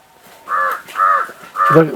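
Three harsh caws from a crow in a village, close and loud, with a brief voice cutting in at the end.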